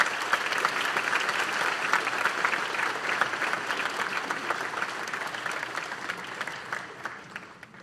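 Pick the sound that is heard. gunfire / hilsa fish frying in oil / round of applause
round of applause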